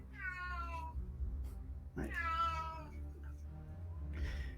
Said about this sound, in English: And we have our noisy cat.